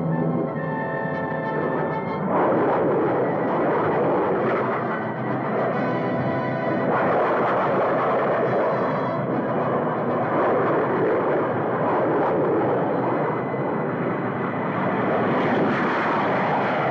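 Fighter planes taking off and flying overhead, a loud, continuous roar of aircraft engines that swells and holds steady throughout, with no talk.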